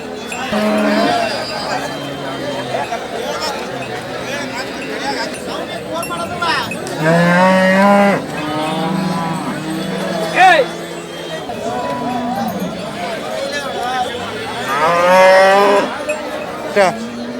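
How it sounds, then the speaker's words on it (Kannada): Several cattle moo loudly and close by at a Sunday-morning cow market in Ranebennur, low drawn-out calls repeating every few seconds while people talk over a busy crowd murmur. "ರೈತರಿಗೆ ಒಳ್ಳೊಳ್ಳೆ ಹಸುಗಳು ಸಿಗ್ತವೆ ಇವ್ರ ಹತ್ರ"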